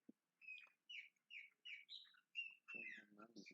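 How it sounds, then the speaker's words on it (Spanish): Small birds chirp in a quick series of bright, high tweets, close and fairly faint, with a burst of busier overlapping calls near the end and no talking. "Me han visitado muchos pajaritos hoy."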